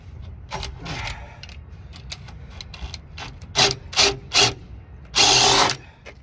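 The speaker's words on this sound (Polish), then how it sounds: "Teraz zmienimy sobie wiertło, jak i baterię." Clicks and clacks of a DeWalt DCD996 drill as its bit and battery are changed, with a few sharp snaps and a louder rattling burst near the end, no talking.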